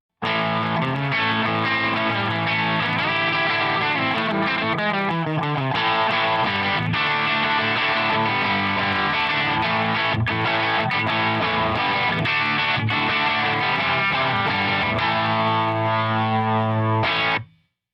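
An electric guitar played through a Caline The Americana effects pedal with the gain turned up, giving a continuous, loud distorted tone with strummed chords and sustained notes that ring out before stopping abruptly at the end.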